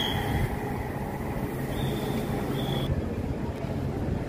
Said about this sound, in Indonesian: kereta cepat WUS-nya melesat ke arah timur Tegaluar Bandung ya